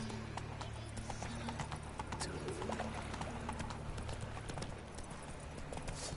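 Horse hooves clip-clop at a steady rhythm in the Witcher 3: Wild Hunt video game, with a low ambient drone and a voice talking over the footfalls.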